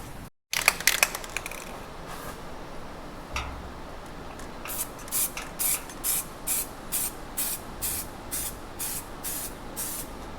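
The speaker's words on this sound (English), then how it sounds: "Throw a quick layer of paint over that" A spray can lays a quick coat of paint over metal on a tractor, starting with a sharp burst and then giving a run of short, even hissing sprays in a steady rhythm, close and fairly loud, with no voices.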